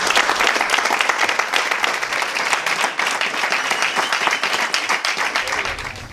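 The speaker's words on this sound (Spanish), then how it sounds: "os pido un fuerte aplauso para él" Audience applause for a speaker at a talk on reinventing oneself in the new economy, dense steady clapping from a room of people that holds for several seconds and thins slightly at the end.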